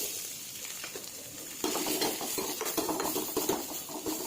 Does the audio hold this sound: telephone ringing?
no